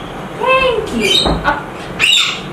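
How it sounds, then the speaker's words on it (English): Pet birds calling inside a bedroom, a series of clear whistled and chirping calls rising and falling, fairly close and loud, with short squawk-like bursts over a quiet room. "All the birds always obey Oyshe's order."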